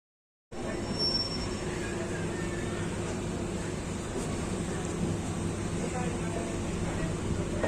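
The Janshatabdi Express starts moving after a stop, a steady rumble and clatter of rolling stock that begins abruptly and holds loud and continuous.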